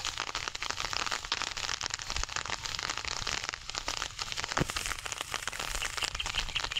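Rain falls in a steady crackling patter on nearby surfaces, a fairly faint but continuous wash of drops with occasional sharper taps.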